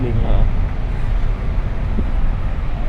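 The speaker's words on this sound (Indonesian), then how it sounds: "ini anginnya kenceng banget nih, AC-nya mantap" Air conditioning in a Mitsubishi Xpander Ultimate 2022 blows hard inside the cabin, a loud, steady, close rushing of air that holds without pause.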